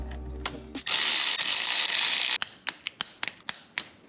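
A hand ratchet torques the bolts of an oil distribution plate on a Mitsubishi Evo 8 engine head, first a long whirring spin, then a row of separate, loud, close clicks at an uneven pace.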